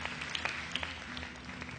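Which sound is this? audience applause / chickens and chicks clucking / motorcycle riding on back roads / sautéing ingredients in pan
audience applause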